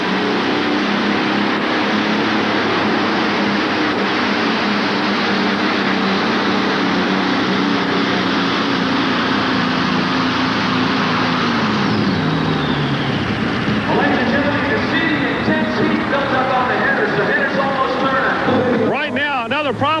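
A modified pulling tractor powered by Allison aircraft engines roars loud and steady at an indoor pull in Louisville, its pitch sweeping down midway through the run, under an announcer's voice.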